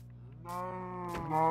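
Cattle mooing in Minecraft, several long low moos one after another with a brief gap between them, loud and close, with no talking.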